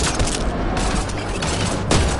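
Rapid sci-fi gunfire from Mass Effect Andromeda, a dense continuous barrage of shots with heavier bursts near the start and end, loud and without talk.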